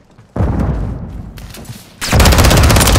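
Loud close gunfire in Call of Duty: Modern Warfare III, a sudden burst of shots after a quiet start, a short dip, then an even heavier sustained stream of rapid automatic fire.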